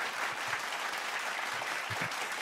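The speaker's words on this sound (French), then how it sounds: "Adrien, et on peut les applaudir aussi." Audience applause at a French advertising and gaming conference as guests are invited on stage: steady, dense clapping from a crowd, sustained and fairly even throughout.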